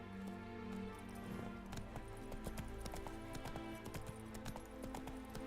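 A horse trots in The Witcher video game, its quick clip-clop hoofbeats faint and steady over a tonal music background.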